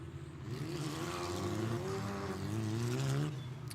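A Formula 4 race car with a Mygale chassis, Renault engine and Pirelli tyres, prepared by Oreca, howls past in the French FFSA championship, its engine note climbing and shifting through revs, loud and close throughout.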